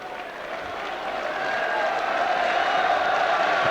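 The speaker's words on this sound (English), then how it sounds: "Cheer for Simon Farmer." Football match crowd at a 1996 English league game cheering and applauding a player, a broad distant roar that grows steadily louder and stays sustained throughout.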